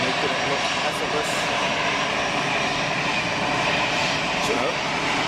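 An EasyJet passenger jet at Geneva airport gives off a steady, fairly loud engine drone with a thin high whine on top, sustained without a break and with no voices.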